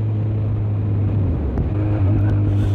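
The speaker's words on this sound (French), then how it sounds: "Il y a une voiture qui arrive derrière." A car approaching from behind on a road, heard as a low steady engine rumble slowly growing louder under the wind and motor noise of a Kawasaki Z1000 motorcycle.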